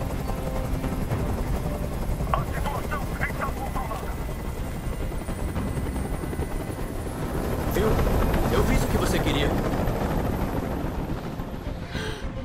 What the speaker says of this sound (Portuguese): Eu não aguento mais esse barulho. Esse helicóptero tem que sair daqui agora.